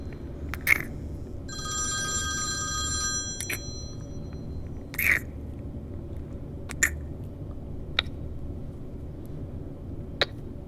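A telephone rings in a short electronic burst, faint against a low background rumble, with scattered clicks and taps around it.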